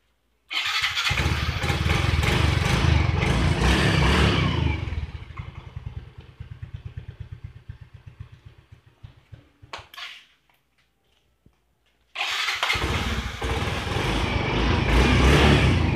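A Yamaha Mio i 125 scooter engine, diagnosed with a busted spark plug, revs loud and close, fades to a rough low idle and stops, then roars up again after a short silence.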